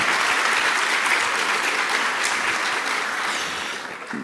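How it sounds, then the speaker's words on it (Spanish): Sustained applause from a debate audience, dense and steady clapping filling the room, fading slightly toward the end with no voices over it. "un aplauso para Fernando también"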